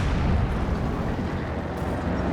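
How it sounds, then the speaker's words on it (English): Heavy mortar fire in Company of Heroes 2, a sustained low, rumbling roar of explosions and artillery impacts filling the scene, fairly loud and steady with no clear gaps. "Heavy mortar from out the back."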